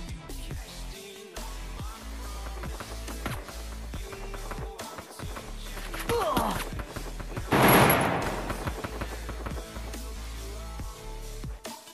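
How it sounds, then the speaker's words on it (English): Free Fire video game gunfire from all sides, rapid bursts and scattered shots, some near and loud with a heavier blast midway, over a busy game soundscape. "I'm getting shot at from all angles, guys."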